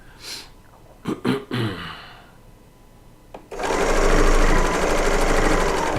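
A serger sewing machine stitching quilt seams starts with a few short clicks and bumps, then runs as a loud, fast, steady mechanical whir for the last few seconds.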